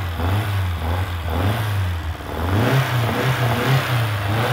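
A 1.6 Ford cross-flow engine with twin 40 Weber carburetors in a 2000 Westfield wide body, revving and falling in a loud, throaty, continuous drone with a lumpy low pulse, close by and with no voices.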